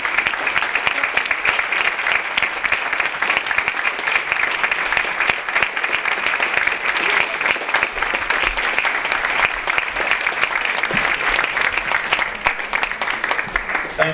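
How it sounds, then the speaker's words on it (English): Sustained applause from a large crowd honoring military service members and veterans at a Veterans Day ceremony, dense steady clapping filling the whole stretch without pause. "a round of applause to all our military"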